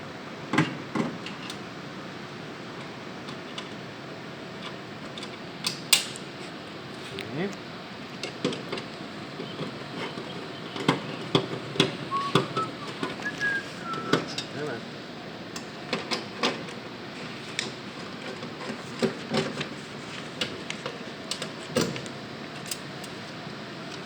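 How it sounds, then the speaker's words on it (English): Four screws are taken out by hand, giving a run of small, irregular metallic clicks, ticks and scrapes close up over a faint steady background hum. "4 screws are holding this in, all right? So what you're going to do is you're going to take the screws out."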